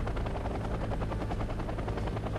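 Helicopter rotors in the real-time strategy game Wargame: European Escalation, a steady dense chopping whir that carries loud and continuous through the whole stretch with no talk over it.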